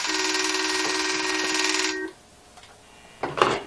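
An Automatic Electric three-slot coin payphone bell rings loudly and steadily for about two seconds, then stops abruptly, followed by a faint clatter and a brief handling noise as the receiver is picked up.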